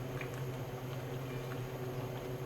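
Homemade tomato ketchup simmering down in a pan, a soft continuous bubbling and popping at low level, steady throughout with no voices.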